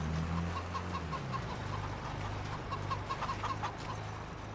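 Chickens clucking on a Farming Simulator farm set in Judith Plains, Montana, scattered short clucks repeating over a steady low hum of machinery, no voices.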